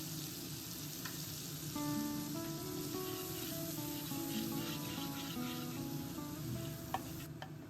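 Mustard paste with salt, turmeric and chilli powder frying in oil for a fish dish, a steady close sizzle and spatter with occasional stirring, no voices.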